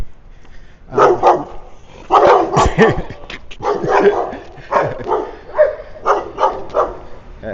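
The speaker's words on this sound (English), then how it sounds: "guard dogs." Guard dogs barking in repeated bursts of several barks each, fairly loud and close, on a residential street in the Itzimná neighbourhood of Mérida, Yucatán.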